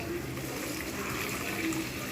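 Water pouring into a pan of cooked-down spiced curry masala for a Bengali bhetki fish curry, a steady continuous rush of liquid with a faint sizzle beneath, close and fairly loud throughout.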